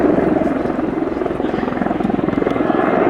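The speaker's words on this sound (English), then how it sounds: "Undercarriage on this Czech Hind is retracted." A Czech Mil Mi-24 Hind helicopter flies at an air show, its loud, close rotor thumping in a fast, even pulse over a deep engine roar.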